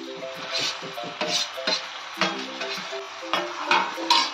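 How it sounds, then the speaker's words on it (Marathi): A spoon stirs peeled roasted brinjal into a spiced Marathi bharit mixture, making repeated scraping, squelching strokes in a steady rhythm, close by over a soft tonal background. "त्याला व्यवस्थित मिक्स करून घेऊया."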